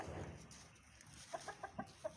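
Hens on a poultry farm give a quick run of short, close clucks in the second half, after a stretch of low, murky farm background.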